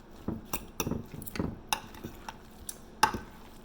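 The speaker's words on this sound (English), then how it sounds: "Now you can put your hands right in this and stir it up as well. I usually try to do it with my a couple of forks." A couple of forks stir and mash a meatloaf mixture in a bowl, giving a series of soft irregular scrapes and clinks at close range, with one sharper clink near the end.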